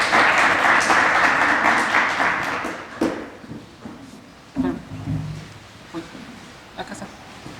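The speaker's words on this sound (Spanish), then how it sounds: "Lo recibimos con un aplauso." Applause from an audience at a talk on birds and mammals in protected natural areas, dense clapping for the first three seconds that thins out and fades, followed by scattered taps, shuffling and some talk.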